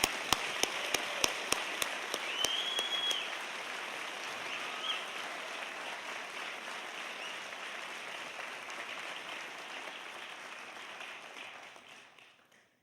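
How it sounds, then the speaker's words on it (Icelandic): Applause breaks out at the Verzlunarskóli Íslands 2024 graduation ceremony. A few separate sharp claps build into a sustained, dense roar of clapping that carries on steadily, then fades away at the end. "Aftur takk, ef við gefum gott klapp aftur."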